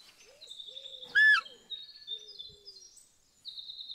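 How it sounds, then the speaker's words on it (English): A bird in the hunting video game Call of the Wild gives loud, high-pitched whistling calls in a series of clear notes, some sliding, with a brief sharper burst in between and quiet pauses. "Oh, this bird is pretty nice. Although loud, but I like that."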